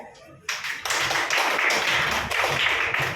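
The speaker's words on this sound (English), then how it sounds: "So, clap for yourself." Children in a class clapping for themselves, a dense burst of many hands applauding together that starts abruptly and carries on steadily, close and loud.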